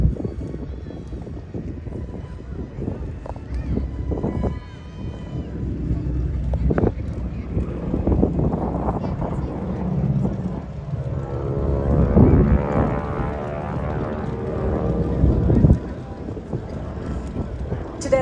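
An AT-6 Texan flies at an airshow, heard as a continuous broadband engine drone with wind buffeting that swells and fades, mostly under a man's announcer-style commentary.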